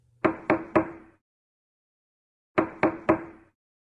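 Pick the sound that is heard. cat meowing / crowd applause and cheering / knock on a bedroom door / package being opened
knock on a bedroom door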